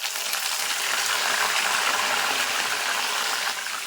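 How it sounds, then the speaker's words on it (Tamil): Garlic and curry leaves sauté in hot sesame oil for tomato thokku, a close, loud, continuous sizzle that keeps an even level with no talking. "இந்த பூண்டுமே நல்லா கொஞ்சம் கலர் மாறுற வரைக்கும் வதக்கி விடுங்க."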